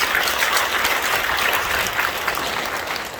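A church congregation applauds during an ordination service for new deacons, loud sustained clapping from a large crowd that holds steady throughout.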